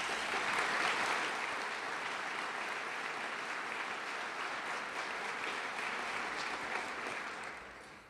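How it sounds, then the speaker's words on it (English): Sustained applause from a civic club luncheon audience fills the whole stretch, dense and steady, then tapers off near the end. "Please join me in a warm round of applause for all of them."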